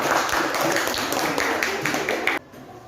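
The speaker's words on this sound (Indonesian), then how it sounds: "kita beri tepuk tangan untuk kelompok 3" An audience claps for a presenting group at a seminar, brisk steady applause that cuts off abruptly near the end, leaving quiet.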